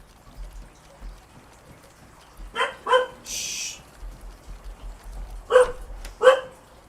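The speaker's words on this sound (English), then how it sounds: "Hey, stop barking." Short barks from a dog in the DayZ video game, set in Livonia: two separate pairs of yaps about three seconds apart, moderately loud against a quiet background with a brief hiss between them.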